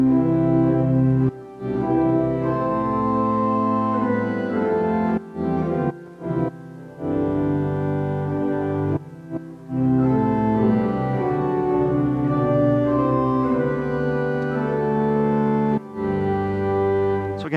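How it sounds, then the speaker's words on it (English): A 1924 Skinner pipe organ at St. John's Cathedral plays a sustained melody in one voice over chordal accompaniment in other parts, rich and continuous with a few brief pauses between phrases. "So if I play the melody in this voice and then accompaniment in the other parts, it sounds like this."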